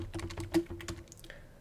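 Quick bursts of keystrokes on a computer keyboard while code is typed, a close run of about a dozen clicks with one louder tap in the middle, heard alone.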